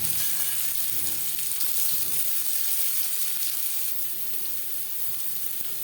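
Chopped onion fries in oil in a wok, giving a steady, close sizzling hiss that holds evenly throughout with only slight shifts in intensity and no voices.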